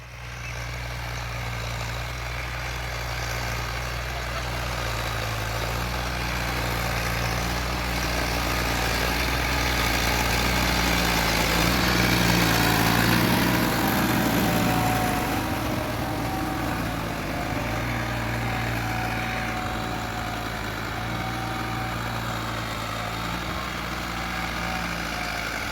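An ATS 290 82 hp tractor engine idles with a steady low diesel drone and a constant hum, holding an even, unbroken rhythm for nearly half a minute with no voices.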